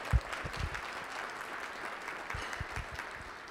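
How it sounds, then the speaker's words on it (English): Audience applauds the mayor and his team at a keynote luncheon, a faint, steady wash of clapping throughout with a few louder nearby claps standing out. "Please give the Mayor and his entire team a round of applause."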